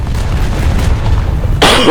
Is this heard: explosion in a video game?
yes